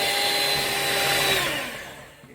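Yorkshire pudding batter being whisked with an electric whisk, a steady close whirring motor hum that drops in pitch and fades toward the end.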